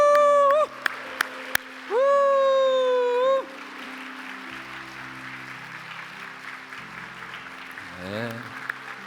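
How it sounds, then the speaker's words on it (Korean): Congregation clapping and cheering at a church New Year special dawn prayer service in Jeju: a short tonal sound comes first, then steady, sustained applause from a crowd that carries on to the end. "우리 청년들에게 다시 한번 큰 함성과 박수로 축복해 주시기 바랍니다"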